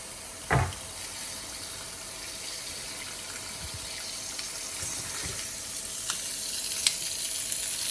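Cheese-topped food sizzles under the closed lid of a Tefal OptiGrill XL contact grill, a faint continuous hiss and crackle with a few soft pops and clicks.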